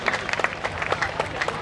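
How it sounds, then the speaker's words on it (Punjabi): A crowd at a village fair (mela) claps in a short, loose burst of applause, mid-distance and fairly lively, with bits of voices mixed in. "ਇੱਕ ਵਾਰੀ ਜ਼ੋਰਦਾਰ ਤਾੜੀਆਂ"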